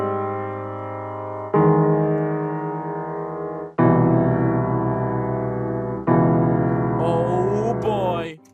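A jazzy major seventh chord progression plays back in FL Studio as four sustained synth chords, each struck cleanly and left to ring, with a rising sweep of notes under the final chord before it cuts off.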